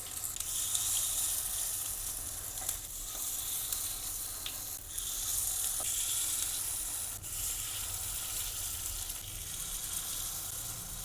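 Mustard seeds sizzle in hot oil in a pan, a constant fine hiss broken by a few sharp crackling pops, close and alone.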